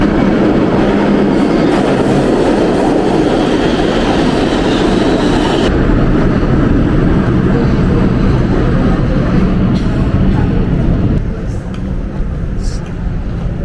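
A train rumbles past in a New York City street near 68th Street and Broadway, a loud, continuous roar that fills the scene, with people talking over it.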